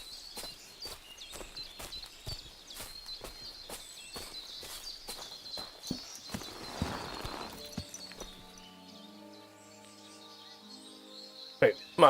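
Horse hooves clip-clop steadily in the Kingdom Come Deliverance 2 video game, with a regular rhythm of hoofbeats under faint birdsong before a musical game tone takes over near the end.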